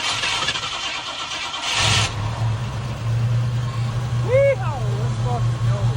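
A Ford Mustang Fastback with a newly fitted solenoid cranks with a rough, noisy rumble for about two seconds, then catches and settles into a steady, loud low idle, with a brief voice-like sound over it near the end.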